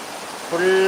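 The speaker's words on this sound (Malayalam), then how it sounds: "നല്ല അടിപൊളിയായിട്ട് മഴ പെയ്യുന്നുണ്ട്" Heavy rain pours down in a dense, steady hiss close by, and a voice begins under the downpour near the end.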